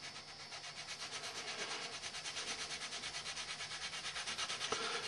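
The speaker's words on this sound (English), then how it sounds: "I'm gonna go ahead and sand the areas that we glued" Glued body repair areas on a 1962 Mercury or 1972 El Camino are sanded by hand in a steady rhythmic back-and-forth rasp, fairly faint and continuous, with a small knock near the end.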